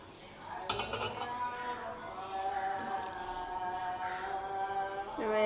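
A metal spatula stirs oil in a cooking pan while making alu pakora, producing bright ringing clinks and scrapes close up over a quiet background.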